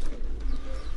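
A racing pigeon, a this-year bird ranked second nationally in Sweden, gives a soft low cooing call close by in a loft, brief and continuous with faint background noise.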